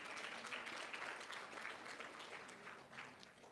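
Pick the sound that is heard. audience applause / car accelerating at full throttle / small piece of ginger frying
audience applause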